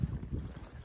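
Horse hooves clip-clop on the ground during a ride on Cedar Mesa, a few close, soft thuds in an uneven walking rhythm.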